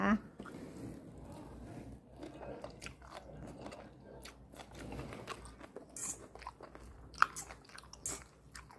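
Close crunchy bites and chewing of Lao vegetable soup, irregular moist chomps and small crunches, with a sharp click near the end.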